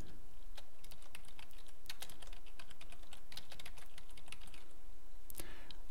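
Rapid typing on a computer keyboard, dense irregular keystrokes clicking steadily for several seconds at close range over a constant background noise, with no voices.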